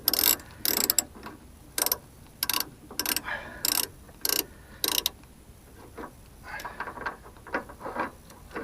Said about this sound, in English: I'll have to lower the jack a bit.